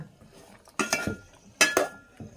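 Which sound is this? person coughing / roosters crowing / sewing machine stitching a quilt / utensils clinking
utensils clinking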